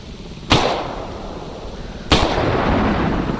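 Two loud, sharp gun reports from the Stalker Anomaly video game, spaced about a second and a half apart, each followed by a rumbling tail.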